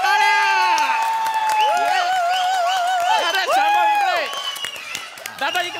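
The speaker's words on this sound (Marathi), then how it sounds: "जोरदार टाळ्या" An audience at a Marathi comedy show claps and cheers under loud, sing-song talk and shouting voices, the crowd noise fading near the end.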